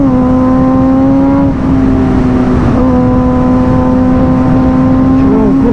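A Suzuki GSX-R motorcycle with no exhaust baffle holds a loud, steady drone close by, its pitch dipping briefly then returning as the unbaffled engine revs.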